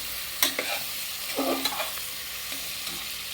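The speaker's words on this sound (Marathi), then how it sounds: "आणि छान परतून घेऊया" Chopped vegetables are sautéed in a pressure cooker for masala bhat, a soft sizzle under scattered scraping and stirring clinks of a spoon against the pot, faint and close with no talk.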